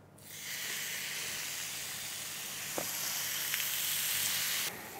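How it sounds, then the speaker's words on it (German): Whole marinated chicken for shawarma sizzles steadily in a hot pan, a loud continuous hiss with a couple of faint pops, cutting off abruptly near the end. "wenn ich das hier in der Pfanne brate"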